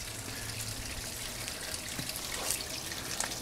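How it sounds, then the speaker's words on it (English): Steady rushing water from a waterfall, a continuous broadband wash of moderate level with no voices over it. "Look at that waterfall."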